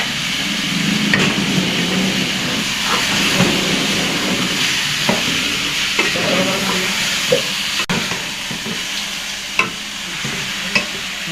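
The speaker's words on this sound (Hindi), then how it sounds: "अब कीमे को हम भूनेंगे" Minced meat frying and being stirred in a pan with garlic and ginger for khara masala keema, a steady close sizzle broken by scrapes and clacks of a spoon against the pan, no talking.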